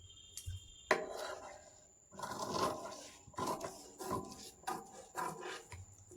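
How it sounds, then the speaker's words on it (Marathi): Scissors cutting through blouse fabric at a tailoring table, a series of close rasping snips and rubbing strokes in bursts with short gaps, no voices. "आता याची कटिंग करून घ्यायची."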